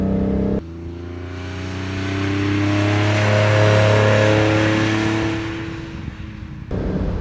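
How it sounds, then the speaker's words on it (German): A 1971 Fiat Dino 2400 Spider with its Ferrari-derived engine accelerates hard, the steady revving note swelling louder and rising in pitch over several seconds before easing off, heard close with no talk. "Also der hängt super am Gas, der Wagen."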